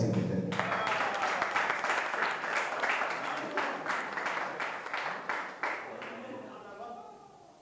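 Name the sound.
applause from the audience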